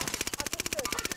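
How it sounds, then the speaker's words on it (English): Rapid automatic gunfire in a first-person shooter, a steady burst of evenly spaced, closely repeating shots from a single weapon, loud and continuous for just over a second. "Where are you shooting?"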